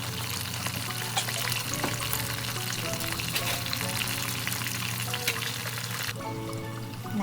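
Tempura frying in hot oil: a loud, continuous close-up sizzle and crackle that holds steady throughout, easing slightly near the end.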